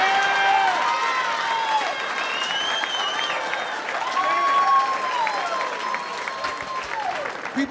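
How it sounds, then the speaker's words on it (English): Comedy special audience clapping and cheering in a theater, a sustained, dense round of applause with crowd noise and whoops rising over it throughout. "They clap for that man for still being alive"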